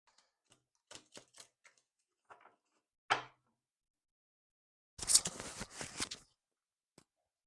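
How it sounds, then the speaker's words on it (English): A Rider-Waite tarot deck is shuffled by hand: scattered soft card taps and clicks, one sharp snap, then a dense riffling burst lasting about a second, all close and quiet. "we'll just shuffle up for you"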